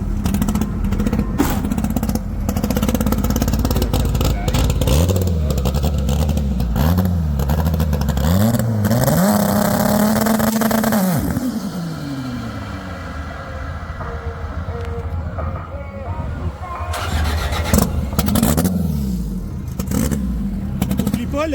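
A car engine is held on two-step launch control at lower RPM to build boost, giving a loud, sustained, stuttering rev with rising and falling pitch sweeps. People speak French nearby throughout.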